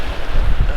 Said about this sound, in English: Just the wind is kind of chilly.